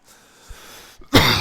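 A short, rough throat-clearing cough, close and fairly loud, then a brief burst of breathy noise.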